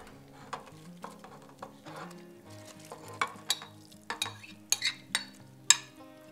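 Herbs frying in a pot for abgoosht, Iranian lamb and chickpea stew: a low sizzle under repeated stirring clinks and scrapes of a utensil against the pot, irregular and close, without talk.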